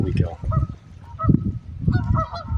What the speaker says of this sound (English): I got some pissed off geese.